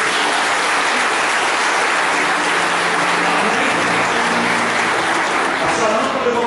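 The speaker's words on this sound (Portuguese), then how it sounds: "Aplaude ao Senhor" A church congregation applauding during a service, sustained loud clapping that blends with a background voice and continues evenly throughout.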